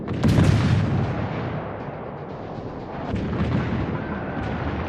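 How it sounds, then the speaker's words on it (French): Battleship shells firing and exploding in the World of Warships video game, with a heavy booming blast at the start followed by a continuous rumbling roar of distant gunfire and explosions. "Attention les obus ils arrivent"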